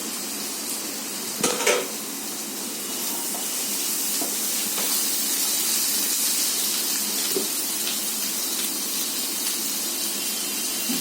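Beans and capsicum sizzle while being stir-fried in a pan, a steady soft hiss with a few clinks of a utensil against the pan early on; no one speaks.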